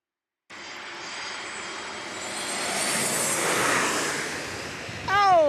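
A United Airlines jet airliner passes at twilight near San Diego's airport, its broad engine roar swelling steadily over about five seconds before a voice cuts in at the end.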